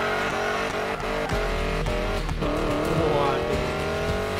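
Car engine and exhaust in the racing game Need for Speed Payback, a continuous loud revving drone with shifting pitch and some tire noise, while someone talks over it.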